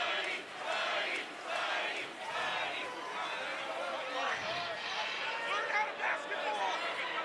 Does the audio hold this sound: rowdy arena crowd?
yes